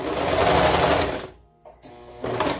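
Sewing machine stitching a sleeve on a toddler dress: a loud rapid whirring run of stitches that stops abruptly, a brief pause with small clicks, then the motor starts up again.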